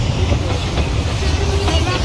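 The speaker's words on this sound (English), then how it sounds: "the train is starting to move" A passenger train starting to move gives a heavy, steady low rumble with faint clanks and rattles, while riders talk in a murmur in the carriage.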